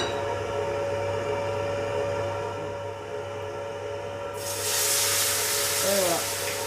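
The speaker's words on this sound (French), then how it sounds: "Et là on déglace au Porto." Port wine poured into a hot pan of browned rabbit pieces, a sudden broad sizzling hiss that bursts in partway through over steady background hum and lingers to the end.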